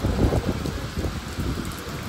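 Heavy rain falls steadily during a storm at sea on the Arabian Sea, a dense, loud, continuous roar with rumbling low-end gusts that carries through the whole stretch, with no one speaking.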